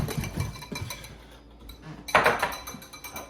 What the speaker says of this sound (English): It's getting nice and thick as I whisk it.